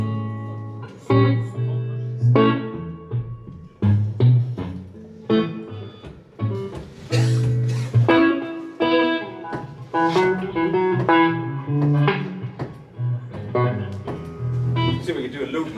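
Electric guitar played through a Fat Gentleman pedal with added Flint reverb, likely into a Victory Deputy amp: a run of loud, sustained, harmonically rich notes and chords picked in uneven phrases, ringing close and filling the whole stretch.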